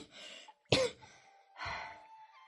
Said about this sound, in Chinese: 偏过头咳嗽两声